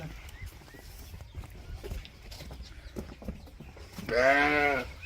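An old sheep from a flock of about 150 lets out one loud, wavering bleat near the end. Before it there is a stretch of noisy outdoor farm ambience.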